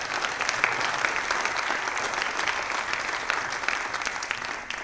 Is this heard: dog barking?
no